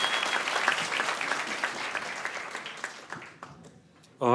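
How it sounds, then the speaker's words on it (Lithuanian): A studio audience applauds for Henri with a dense burst of clapping that tapers off over a few seconds before a sudden loud noise at the end. "Plojimai Henriui."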